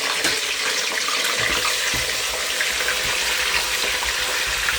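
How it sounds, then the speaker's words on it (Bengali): Onions and beef dropped into hot oil and frying: a loud, dense, continuous hiss and crackle that stays close and steady throughout, with no voices. "তেলটা ভালোই গরম হয়ে গেছে, এখন দিয়ে দিব।"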